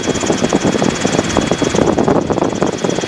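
Robinson R22 helicopter engine in flight during a training flight, a loud steady drone heard from inside the cabin with a rapid pulsing throb and no voices.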